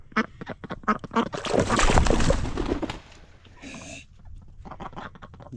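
Ducks on a small Montana homestead farm quacking loudly and repeatedly in a noisy, overlapping burst, close by, with a short splash of running water partway through.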